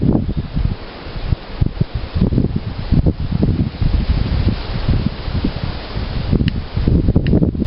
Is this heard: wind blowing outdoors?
yes